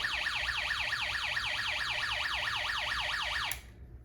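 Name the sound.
electronic alarm sound from circuit kit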